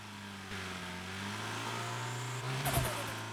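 A loud car engine in the driving game Drive Beyond Horizons holds a steady, humming drone, then rises in a brief rev near the end, close and continuous.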